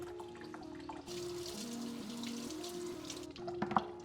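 Juice from a large watermelon drains through a strainer, a steady close trickle of liquid with a faint hum underneath and a few soft clinks near the end.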